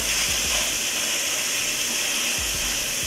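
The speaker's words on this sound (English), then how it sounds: "We're gonna let that sear real good." Salmon seasoned with salt and black pepper sears in a hot pan, giving a loud, constant sizzling hiss with faint low thumps underneath.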